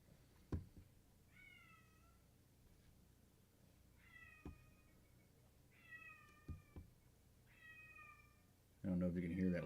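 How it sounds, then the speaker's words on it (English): A cat meows loudly four times in the background at spaced intervals, each call a drawn-out wavering cry, with a few sharp knocks between and a louder burst of noise at the very end. "I don't know if you can hear that loud cat in the background"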